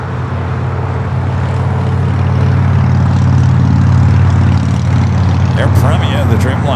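A Boeing 787 Dreamliner airliner rolls down the runway at LAX with a steady, loud engine roar and rumble, a faint higher whine building toward the end, heard from a distance with no clear talk.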